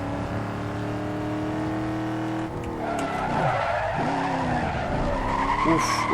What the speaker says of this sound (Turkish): Tabi arabada Mustang sesi var.